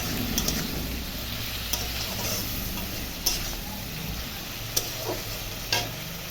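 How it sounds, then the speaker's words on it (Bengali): A fish curry sizzles while chili paste and cumin powder are stirred and sautéed in a pan, with a continuous frying crackle broken by several sharp clinks of a spatula against the pan, and no talking. "শুধু লঙ্কা বাটা আছে। আর একটু জিরার গুঁড়া দিয়ে একটু ভালো করে কষাবো।"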